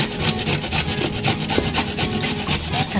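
A knife slices through raw mango in quick, repeated scraping strokes, a rhythmic rasping cut that keeps going at close range with no talking.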